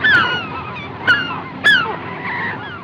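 Geese honk in a few loud, separate calls over steady background noise, with a short burst near the start and two sharper honks about half a second apart in the middle.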